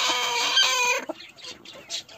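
A broody hen clucks close by in a burst of harsh, throaty calls, followed by a few softer, scattered clucks.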